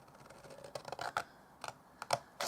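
Scissors notching the corner of a small paperboard soap box, several short close snips and crinkles spaced irregularly, quiet room, no speech.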